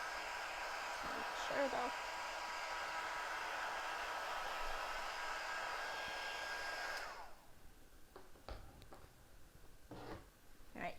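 A hair dryer blows steadily on craft paste, a loud continuous whoosh that cuts off about two-thirds of the way through. Faint ticks and small handling sounds follow, and a brief quiet voice is heard.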